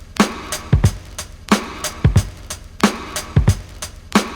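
A live drum break plays in a repeating groove of punchy kicks, snare hits and busy cymbals, with audible room ambience around the kit, loud and without voices.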